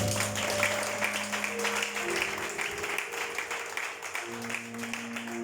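Congregation applauding during a church service, a steady wash of clapping that carries on throughout over a sustained musical tone.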